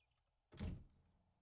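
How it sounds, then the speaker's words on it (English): A single door swings open in the video game 7 Days to Die, one short soft thud with a brief scraping swoosh, fairly quiet against near silence. "That door opens the wrong way out."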